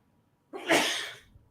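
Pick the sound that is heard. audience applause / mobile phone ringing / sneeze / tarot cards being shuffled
sneeze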